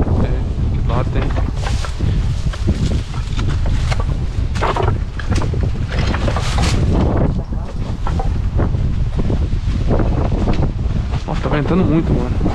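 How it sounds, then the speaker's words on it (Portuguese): Strong wind blows outdoors and buffets the microphone with loud, continuous rushing and gusting, while people's voices come through intermittently. "tá ventando muito"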